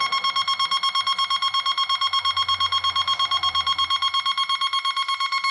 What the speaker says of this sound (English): The tone will change from intermittent tone to fast intermittent.